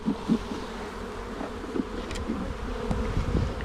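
Honeybees buzz around a nucleus box after being shaken out onto a ramp at a new hive, a dense close hum with individual bees droning past.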